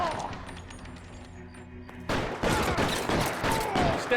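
Gunfire in the video game LA Noire: after a quiet, tense stretch, a sudden burst of rapid shots crackles loudly and keeps going to the end.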